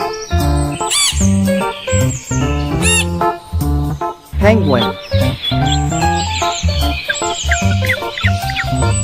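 A parrot calling in a busy series of shrill chirps, whistles and squawks, loud and close throughout, with a voice-like quality that may come from its mimicry.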